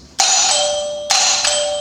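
Electric doorbell chime wired into an electrical installation training panel, sounding two loud, clear ringing tones in quick succession with nothing else audible.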